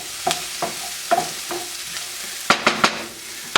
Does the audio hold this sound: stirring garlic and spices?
yes